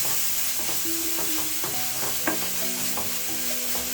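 Seasoning being stirred into chicken and vegetables in a hot pan for a curry, a constant loud sizzle with repeated spoon scrapes and knocks against the pan, nearby and with no talking.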